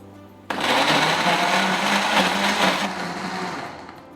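A blender blitzing a smoothie of dates and oats starts abruptly and runs as a loud, steady, close whirring roar for several seconds, easing slightly near the end, with no talking.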